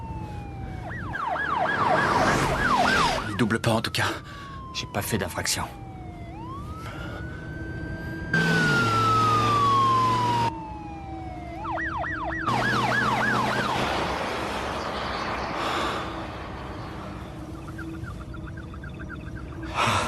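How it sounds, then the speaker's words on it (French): A loud emergency siren wails close by in the game Traveler, switching between rising-falling sweeps and rapid yelping patterns, while people speak briefly over it. "C'est peut-être pas pour nous, la sirène."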